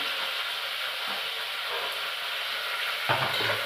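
Sliced onions and carrots fry in a hot pan as a steady, dense sizzle. It holds at an even level throughout, with a brief shift near the end as the pan is stirred.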